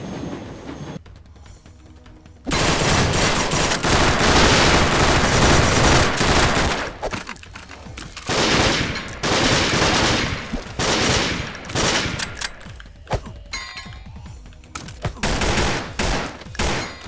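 Dense, continuous gunfire and explosions in the action game Madness Interactive Reloaded, loud bursts of shooting that keep escalating with brief lulls between heavy volleys, no voices.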